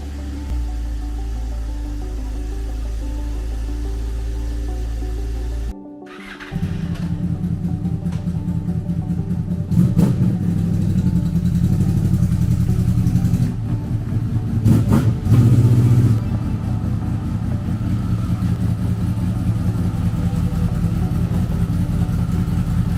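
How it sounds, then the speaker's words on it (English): A car is moved in a home garage, and then a motorcycle engine idles with a low, steady rumble, broken by a thump and a few louder revs close by. "I got to get this car moved back so I can get my motorcycle in here"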